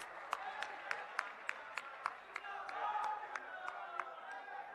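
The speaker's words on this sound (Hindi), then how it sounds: "आप तालियों के साथ उनका स्वागत कीजिए" Crowd applause at an outdoor political rally welcoming Dr. Akhilesh Prasad Singh to speak: faint, distant clapping and crowd murmur punctuated by sharp, evenly spaced individual claps.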